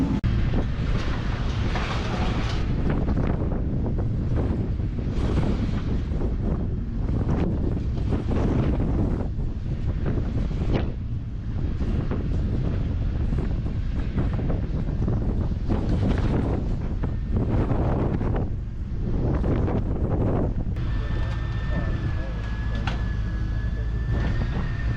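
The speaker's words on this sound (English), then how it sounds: "the wind has been blowing" Strong wind in Hurricane, Utah, a loud, continuous roar buffeting the microphone throughout, with gusty swells and a faint tonal whine near the end.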